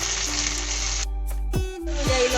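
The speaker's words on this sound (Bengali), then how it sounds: "রসুন কাঁচা লঙ্কা ভেজে নেওয়ার পরে আমি এখন দিয়ে দিচ্ছি সেদ্ধ করে রাখা কচুটা" Boiled taro tipped into a pan of frying garlic and green chili, a steady loud sizzle broken by a brief scrape and splash as the pieces go in, then the sizzle resumes.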